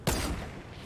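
A single sharp shot in a shooter video game, loud and close, with a short ringing tail fading over the following second.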